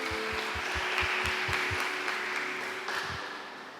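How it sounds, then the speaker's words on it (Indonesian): Applause from wedding guests in a chapel welcoming a newly married couple, with a steady wash of clapping and some distinct close claps over its four seconds, tapering slightly at the end. "Mari kita menyambut keluarga baru ini dengan tepuk tangan"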